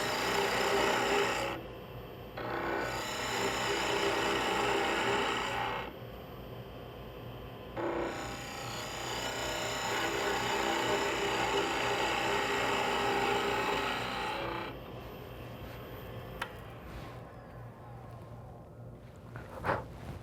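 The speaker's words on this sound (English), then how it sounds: "I'll use the spindle detail gouge, just making light passes." A wood lathe spins steadily while a spindle detail gouge takes light passes on a tulip blank, a continuous motor hum with scraping cut noise that stops and restarts, then fades to quieter tool handling.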